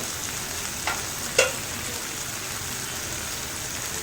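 Chickpeas, spices and tomato fry in a pan with a soft, steady sizzle, broken by two brief scraping stirs near the start, fairly faint and close.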